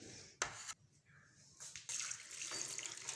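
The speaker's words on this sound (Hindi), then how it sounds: "ये करेला हमारा, अभी हम इसको धोते हैं।" Bitter gourd (karela) being washed under a running kitchen tap, with water splashing in bursts and then pouring steadily into the sink, fairly close and without any talking.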